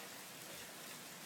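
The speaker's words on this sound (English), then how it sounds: "we're getting seriously a buttload of rain today" Heavy rain falls during a thunderstorm as a steady, dense hiss of water, even and unbroken throughout. No thunder or voices are heard.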